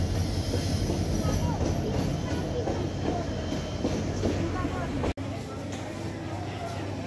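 Passenger train on the Mohanagar route in Bangladesh, a steady loud rumble of rolling railcars with a constant low drone and rattling, continuous throughout with a brief dropout near the end; people talk faintly in the background.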